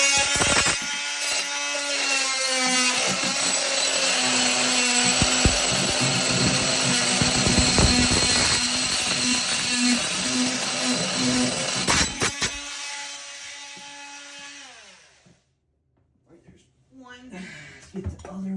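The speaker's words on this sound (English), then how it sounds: "So we're going to cut this bolt off real quick." A power tool cuts through a corroded toilet mounting bolt, a loud continuous whining grind for about twelve seconds that cuts off abruptly, followed by quiet with a few faint clatters.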